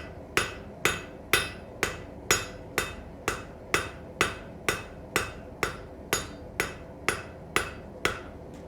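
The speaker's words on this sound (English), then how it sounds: "Hammer I'm working with here." A hammer strikes metal while forging, about seventeen evenly spaced ringing blows at a steady rhythm, each with a sharp attack and short decay, close and clear with no talk.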